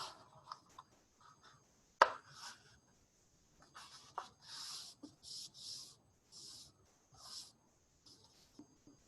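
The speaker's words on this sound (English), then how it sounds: "Again, we're going to take it, fold it in half. Fold this top down." Paper being folded in half and the top folded down, a quiet series of dry crinkling rustles and soft creases in bursts, with a sharp crisp snap near the start and pauses between folds.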